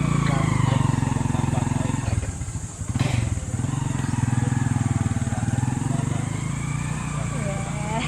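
A motorcycle engine drones steadily and loudly close by during a ride through a tree-lined area, with a brief dip in the throttle midway before it picks back up.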